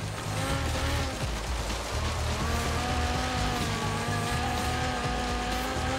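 Race car engine roaring continuously in the racing game Forza Horizon 3, loud and steady with shifting revs and tire noise throughout, no talking.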